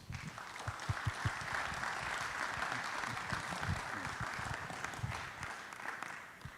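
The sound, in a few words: audience applause for police chief at city council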